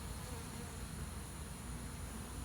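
Honey bees swarm inside a water meter box, producing a continuous, even buzz that is fairly faint and close, with no talk over it.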